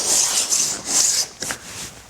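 A cabinet scraper pulls shavings from wood in several long rasping strokes, steady and close, with brief pauses between passes.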